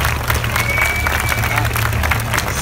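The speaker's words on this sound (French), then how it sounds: "Hey, on applaudit fort, là, s'il vous plaît." A crowd at a dyno run for a 772 HP Mustang GT claps and cheers loudly and continuously, with voices mixed in under a steady low mechanical hum.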